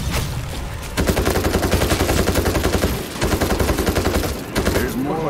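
Dense, loud automatic gunfire from the World War Z video game, sustained bursts of rapid shots with brief pauses between volleys, close and continuous across the whole stretch.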